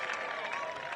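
Crowd noise from spectators at a 2003 UPA Club Nationals ultimate frisbee game between Fury and Riot, a steady broad wash of cheering and applause held at a moderate distance for a second.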